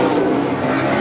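Super late model race cars with modified engines roar around a dirt oval at Georgetown Speedway during a heat race, a dense, steady engine drone close by with no pauses.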